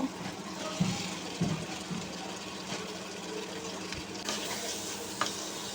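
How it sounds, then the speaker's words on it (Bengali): Ridge gourd and potato pieces frying with spices in a pan, a continuous even sizzle close by with occasional light stirring knocks. "মশলার সাথে সবজিগুলো ভালো করে কষিয়ে নেব"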